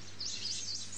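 Birds chirp in quick, high warbling bursts, fairly faint, over a low steady hum.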